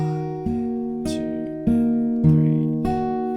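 Fingerstyle acoustic guitar plays a bar of Alan Walker's Faded: about six clear plucked notes and chord tones in an even rhythm, each ringing and sustaining into the next, close and clean with no talking.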